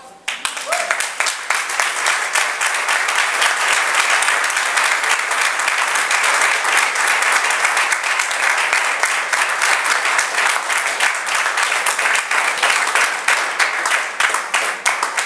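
A church congregation applauding the Lord during a Spanish-language sermon, with loud, continuous clapping from many people that stays thick and even for the whole stretch, with faint voices mixed in.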